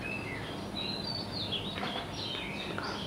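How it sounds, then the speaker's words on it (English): Birds chirp in a forest at sunrise, their thin high calls scattered over steady background ambience that stays at a soft, even level throughout. "the forest awakens to a symphony of sounds, birds chirping melodiously"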